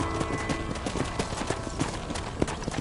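Horse hooves in a video game, a steady galloping clip-clop close up beneath a dense bed of ambient game sound, with a brief snort or two mixed in.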